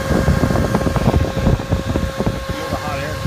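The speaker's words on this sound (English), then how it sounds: "It's got a fan, and it's running right now." Cooling fan running in the open-bottom heat evacuation hood of a Jeep JK, a steady close whirring hum with a faint tonal whine under rumbling, while someone talks over it.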